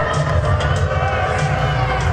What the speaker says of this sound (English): And the crowd is not happy about this whatsoever.